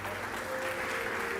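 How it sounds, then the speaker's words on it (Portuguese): A church congregation claps together during an evening service, a continuous, even wash of applause at moderate distance with a faint sustained tone running underneath. "Você pode aplaudir a ele nessa noite, irmão."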